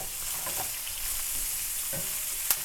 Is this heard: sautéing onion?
yes